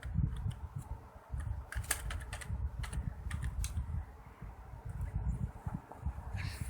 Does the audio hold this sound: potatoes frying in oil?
no